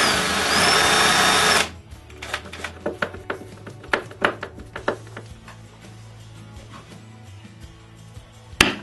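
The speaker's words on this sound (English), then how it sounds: "I drill holes on the door and inside the cabinet for the hinges screws." A power drill whirs in a burst of short bursts, biting into a wooden cabinet door with sharp bites to make hinge screw holes, following a loud steady whine at the start.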